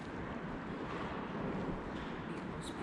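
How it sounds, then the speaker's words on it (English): Steady broadband wind gusting outside a warehouse at night, a continuous low rushing roar with buffeting rumble that holds at an even level throughout, with no voices. "I'm pretty sure that's just the wind"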